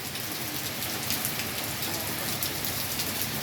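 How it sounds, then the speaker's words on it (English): Heavy pouring rain with strong wind, a steady dense hiss of drops hitting surfaces, loud and unbroken, with no voices. "it's pouring, and somebody's out there walking in the rain"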